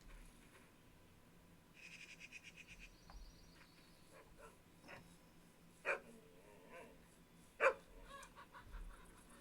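In the fishing video game Russian Fishing 4, a dog barks twice, a couple of seconds apart, fairly faint over quiet outdoor ambience and chirping birds.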